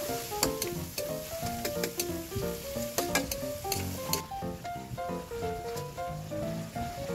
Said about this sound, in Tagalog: At ilalagay na natin ang ating giniling. Haluin ito ng maayos